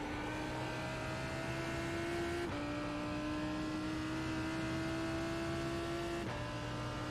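Lamborghini Huracan GT3 EVO race car in iRacing, engine revving steadily upward through a gear, with two quick shift breaks where the pitch drops and climbs again, loud and continuous with no talk.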